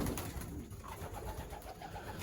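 Young pigeons cooing outdoors in a loft area: soft, low, murmuring coos running continuously, faint and somewhat distant under broadband background noise.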